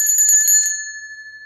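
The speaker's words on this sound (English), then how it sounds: "Here's the big bell." A big hand bell is shaken in a quick burst of several strikes, then its clear high tone rings on alone and fades slowly.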